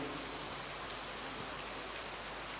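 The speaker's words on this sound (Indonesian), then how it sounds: "Semoga hujan ini membuat kita segar." Rain falls steadily as an even, dense hiss that stays constant throughout with no voices.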